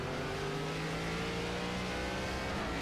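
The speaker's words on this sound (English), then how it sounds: "Upshifts right there." ARCA race car engine at New Hampshire, a steady loud mid-pitched drone with a sustained high rev that holds and shifts slightly in pitch, no voices.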